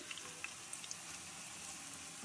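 Grated potato pancakes fry in plenty of oil in a hot pan, giving a steady, close sizzling hiss dotted with small sharp pops and spatters throughout, with no talking.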